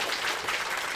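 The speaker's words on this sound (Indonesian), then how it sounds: "Tepuk tangan yang meriah buat Allah." A congregation at a church sermon breaks into a brief burst of dense, steady applause, with many hands clapping at once.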